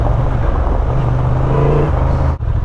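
Steady low chugging of a 2025 Honda Transalp motorcycle engine in second gear at about 13 mph on a rutted track, a continuous close rumble with wind noise and no speech.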